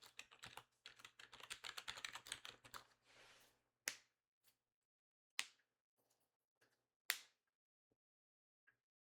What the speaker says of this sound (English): hold on, I'll type this.